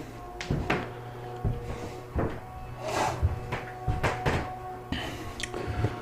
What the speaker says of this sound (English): And the drawers opening.